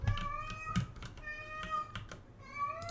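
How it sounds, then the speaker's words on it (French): A house cat meows several times close by, short rising cries spread across the moment, with clicks of computer keyboard typing in between. "Le petit chat de la maison qui fait des miaou."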